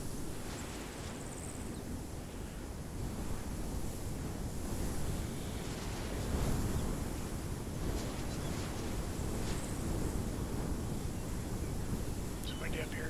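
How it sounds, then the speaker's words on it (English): Steady wind gusting on a high, exposed spot in a military video game, a continuous broad rush that swells slightly midway, with faint background sounds and no clear talk. "It's windy up here."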